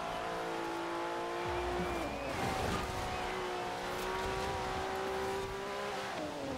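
Porsche race car on a wet track in Forza Horizon 4, its engine droning steadily and close throughout, pitch shifting as it accelerates and lifts, with brief tire noise midway.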